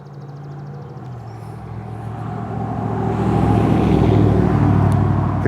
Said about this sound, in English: Hear the cars whizzing down the road.